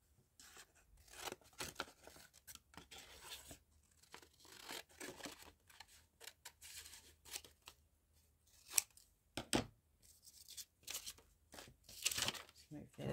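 Scissors snip and crinkle through light bulb packaging cardboard in a craft project, irregular close cuts and rustling with occasional louder crunches, quiet and intermittent.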